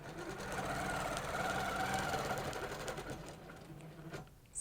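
A sewing machine stitches steadily along a cable ruler in a quilting setup, a continuous close whirring hum that runs for several seconds before stopping abruptly near the end.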